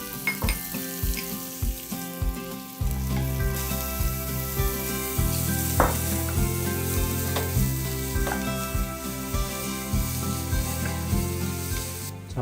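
Carrot, zucchini and oyster mushrooms stir-fry in a hot pan, giving a steady loud sizzle with scraping and stirring clatter throughout, building after the first few seconds.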